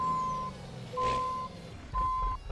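A truck in the American Truck Simulator or Euro Truck Simulator 2 video game backs up, its reversing alarm giving three evenly spaced steady beeps over a low idling engine drone.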